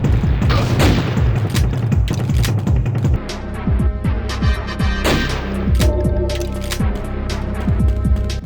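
A Barrett M99 rifle in the PSP video game Kurok fires loud, booming shots amid a thick mix of game explosions and mechanical clatter, with repeated heavy impacts throughout.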